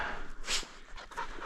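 A hunting dog pants in quick, close breaths after retrieving a chukar during an upland bird hunt in Nevada, with a soft whimper mixed into the steady huffing.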